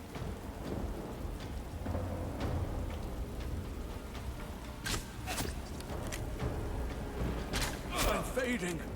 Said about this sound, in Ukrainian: Ну дощ уже йде, дурило.